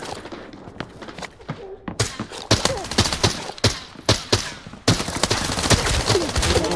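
Rapid bursts of automatic gunfire from an Arena Breakout: Infinite firefight crack out close and loud, with dense shots packed into clusters and a sharper, heavier volley from about the two-second mark onward.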